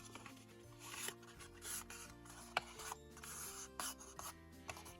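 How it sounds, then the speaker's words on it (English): Close, faint rubbing strokes as a tool burnishes score lines on paper for a craft shadow box, short irregular scrapes with brief pauses and no voices. "On 2 of the pieces, you're gonna you know, burnish your score lines."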